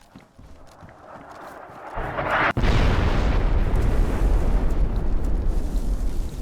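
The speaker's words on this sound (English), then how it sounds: "As soon as I get here, the gas bomb goes off." A gas bomb goes off in the video game DayZ: a rising rush of noise erupts into a sharp blast, then a loud, sustained broadband roar and hiss fills the rest of the moment.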